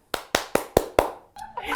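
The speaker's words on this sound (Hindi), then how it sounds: "तालियां" A few people in a talk-show studio clapping, five sharp, evenly spaced claps close by, followed by a brief burst of voices and movement.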